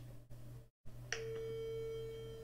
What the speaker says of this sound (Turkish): Ben onu arıyorum şu anda.